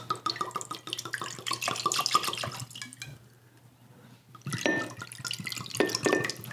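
Bourbon whiskey of about 137 proof pours into a glass in two bursts of close liquid splashing and gurgling, with a brief quiet gap between them.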